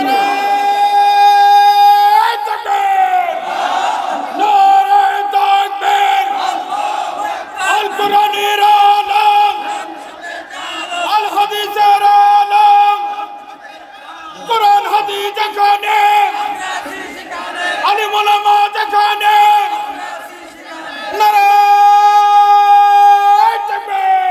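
A large crowd at an Islamic religious sermon gathering in Bogura, Bangladesh roars a loud, sustained chant in answer to a takbir call, with repeated swelling bursts of massed voices that echo over an amplified setting.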